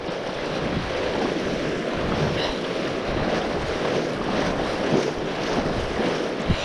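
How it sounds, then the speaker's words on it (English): Fast, cold mountain stream water rushes hard and steadily at close range near a trout fishing spot at Cooleman, NSW, forming an unbroken broadband roar with no pauses. "Water's rushing pretty hard here as well."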